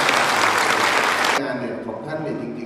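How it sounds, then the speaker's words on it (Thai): An audience at a district government policy meeting in Tha Maka, Kanchanaburi province, bursts into dense, loud applause that cuts off abruptly partway through, leaving a murmur of voices and room noise. "ท่านผู้ชมปรบมือกับตัวเอง"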